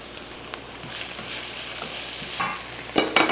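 Chopped onions sizzle and brown in a pan, a soft steady frying hiss broken by a few scraping stirs and clinks of a utensil, louder near the end, with no voices.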